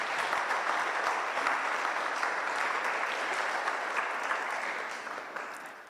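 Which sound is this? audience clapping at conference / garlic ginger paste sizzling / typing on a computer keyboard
audience clapping at conference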